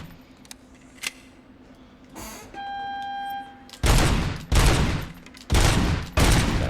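Gunfire in RoboCop: Rogue City: a few isolated sharp shots, then a steady electronic tone, then four loud, heavy bursts of automatic fire in quick succession.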